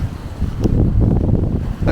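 Strong wind buffeting the microphone in atrocious weather at a Lake District campsite, a loud rumbling roar with gusty surges over two seconds.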